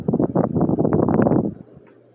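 A new Westinghouse Petite 30-inch ceiling fan in brushed nickel runs with a steady, fairly loud whoosh of moving air and a low hum beneath, then drops away to a faint residual hum near the end.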